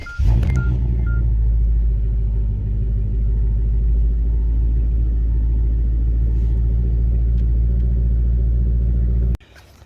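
A Hyundai Genesis 5.0 that has sat unused for a while cranks and fires up, then settles into a loud, steady low idle rumble close by, running evenly for several seconds before cutting off abruptly near the end.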